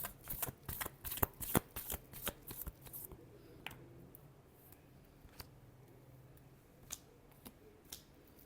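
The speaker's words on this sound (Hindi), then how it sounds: "flash shuffle" Tarot cards are shuffled close up in a quick flurry of sharp riffling snaps, which then thin out into a few scattered single card flicks and taps in a quiet room.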